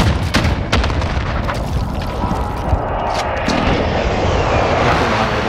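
Precision airstrike explosions in Call of Duty: Modern Warfare roll in as loud, heavy booms with rumbling aircraft noise, a dense continuous barrage from start to finish.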